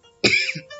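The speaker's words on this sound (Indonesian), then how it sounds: "Nah, batuk." A single close cough, short and rough, followed by a brief throaty tail.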